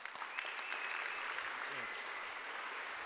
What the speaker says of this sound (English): So let's welcome and give Tyson a big round of applause.